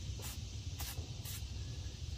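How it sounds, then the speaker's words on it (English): Three short bursts of WD-40 spray lubricant misted onto threaded suspension parts of a 1966 Ford Fairlane, each hiss brief and fairly faint over a low steady background rumble. "I'm going to lube those threads with WD-40."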